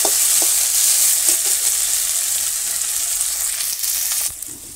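Frying in a pan in a village kitchen for pea lentil dal with salt and turmeric, a loud continuous hiss with a few soft stirring knocks, easing slightly near the end.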